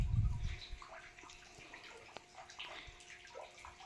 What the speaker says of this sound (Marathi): आणि पाणी आता उपसत आलेलं आहे.